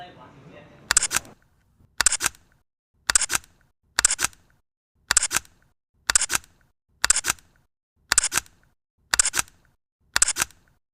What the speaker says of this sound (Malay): Jom kita ambil gambar guna Canon EOS R100.